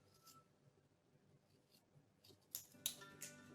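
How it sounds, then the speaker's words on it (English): Scissors snipping the corners of a fabric placemat, a few crisp close cuts near the end after quiet handling sounds, faint and alone. "So let's cut the corner like so."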